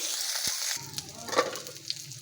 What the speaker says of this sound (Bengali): করলগুলো ভাজা হয়ে গেছে